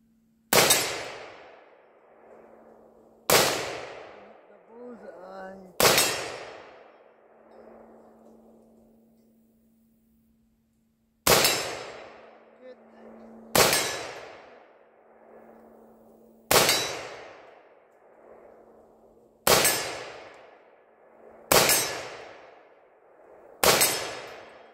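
Rifle shots from a BCA 7.62x39 side-charging AR with an 18-inch barrel, fired outdoors at a target: nine loud, sharp reports with ringing decay, three spaced shots, a pause of several seconds, then six more at a steady pace over a faint constant hum.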